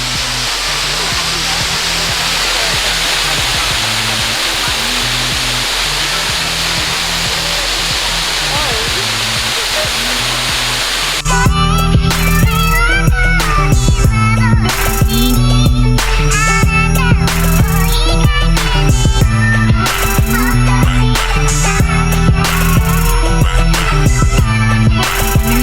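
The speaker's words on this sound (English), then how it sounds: "We made it up top to the waterfall." A waterfall at Kings Kloof gives a steady, dense rushing roar on its own for about eleven seconds, then music comes in and plays over the continuing water noise.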